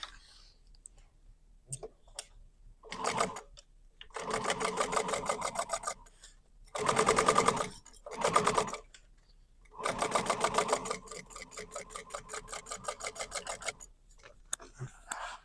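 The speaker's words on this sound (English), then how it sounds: "And we're going to sew along this top to create our slip pocket." A sewing machine stitching the top edge of a slip pocket on a tote bag, running in several separate bursts of fast rhythmic clatter with pauses between.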